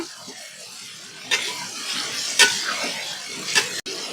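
Potato sautés in a pan until golden, with a soft steady sizzle and a few sharp, close clatters of a utensil against the pan.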